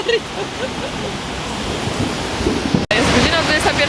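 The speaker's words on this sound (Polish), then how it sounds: "Pewnie słyszycie jak leje, jest giga burza, giga leje." Heavy thunderstorm rain pours steadily in a dense, hissing wash, with a brief cutout partway through before the downpour resumes, close and loud.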